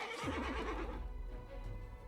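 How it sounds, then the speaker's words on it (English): A plagued horse in the fantasy video game Pathfinder: Wrath of the Righteous lets out a loud, close whinny that trails into a softer snort. "Well, the plagued horse didn't stand much of a chance."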